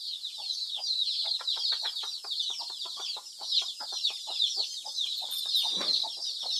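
Small chicks and hens at a backyard Thai poultry pen give a steady stream of close, rapid cheeping and clucking, many short calls repeating continuously, with no talk over them.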